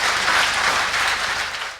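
A crowd at a debate stage show breaks into loud, sustained applause welcoming a speaker, dense clapping that holds steady and begins to fade toward the end.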